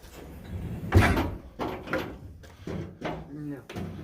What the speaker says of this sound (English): Close the door completely.